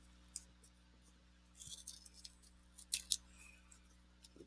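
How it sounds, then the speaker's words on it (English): Scissors snipping green cardboard, a few quiet separate cuts with crisp snapping clicks, closer and sharper toward the end, over a low steady background hum. "And then you can cut this into"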